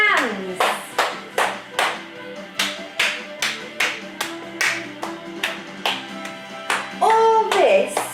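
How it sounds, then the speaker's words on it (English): Steady, evenly spaced hand claps ring out close and clear at about two per second, with a voice and music tones rising near the end. "or clap your hands."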